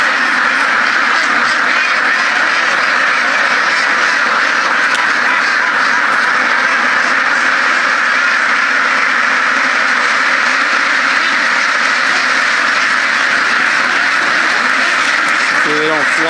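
A flock of runner ducks quacks in a constant, overlapping chorus close by in winter, with broadband background noise throughout.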